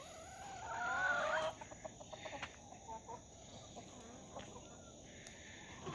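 A rooster lets out a short squawking call, followed by a series of quick, soft clucks nearby in a quiet outdoor setting.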